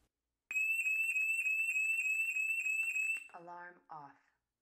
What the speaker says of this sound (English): All you do is hold down the button for a moment and the alarm will go off.